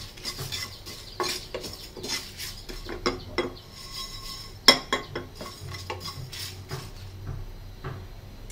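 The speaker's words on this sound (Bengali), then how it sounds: "চুলা জালটা মিডিয়াম রেখে পাঁচফোড়নগুলোকে ভালো করে ভাজতে হবে।" Panch phoron spices stirred in a pan over a medium flame, a quiet series of scraping and clinking strokes from a utensil against the pan, irregular and spaced out, with no talk.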